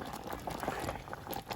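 Chipotle shrimp taco filling bubbling and simmering steadily in a pan, a soft close boil with no voices.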